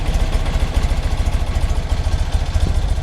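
An air-cooled BMW R75/6 boxer motorcycle engine idles up close during carburetor tuning, putting out a steady, loud, rhythmic low pulsing with a mechanical clatter on top.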